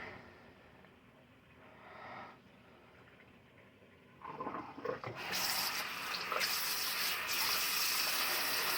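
Tap water starts running into a kitchen sink during dishwashing, a faint trickle swelling into a steady, close gushing stream that fills the basin, with no voices.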